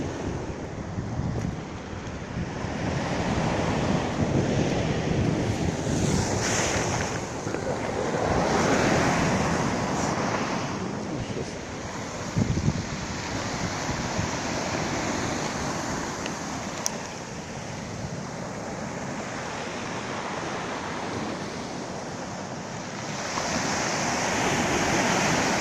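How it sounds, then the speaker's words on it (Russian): Black Sea waves wash onto the shore at Alushta on a sunny January day, a continuous rolling surf with gusts of wind noise and no talking. "Такое вот море."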